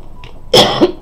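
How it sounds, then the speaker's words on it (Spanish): A person coughs close to the microphone, one faint throat sound followed by a loud harsh cough and a short second burst, reacting to a vanilla-scented candle. "me da la tos por la vela"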